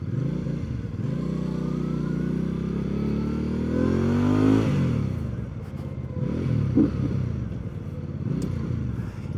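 A BENDA Napoleon 450 motorcycle engine revs and accelerates nearby, pitch rising then dropping between gear changes, with some clattering underneath.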